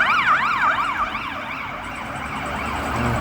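An ambulance siren wails in a fast up-and-down sweep, loud and fairly close at first, then easing slightly as it continues over low road noise on a cold winter walk in Sweden.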